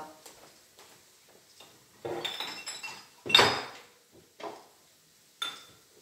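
Dishes and utensils are put away in a kitchen, giving scattered clinks, knocks and clatters of varying loudness with quiet gaps between, close by and without talk.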